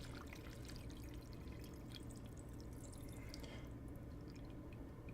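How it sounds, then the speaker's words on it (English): Water filling a bottle, a soft and faint steady pour with light drips and trickles that runs continuously and stays quiet throughout. "I need to fill my bottle with water right now"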